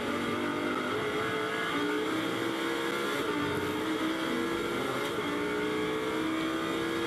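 Lamborghini Super Trofeo race cars sweep past at the Nürburgring, a steady, loud engine drone with rising and falling harmonic tones holding for several seconds without any talk.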